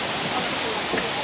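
Waterfall in Luang Prabang, Laos, flowing down in stepped tiers: a steady, even broadband rush of falling water, close and continuous with no breaks.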